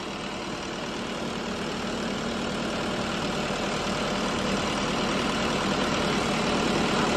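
A 5911 tractor engine runs steadily at idle, a constant low rumble with a mechanical mid-range drone that holds at an even level throughout, close by and with no voices.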